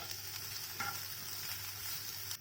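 A gentle, steady sizzle comes from a pan where ingredients for paneer cutlets are lightly sautéed, soft and close, with a brief stir partway through and no voices.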